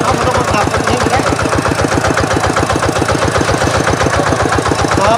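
Two-wheel walking tractor plowing a rice field, its engine chugging loud and close with a fast steady knocking rhythm throughout.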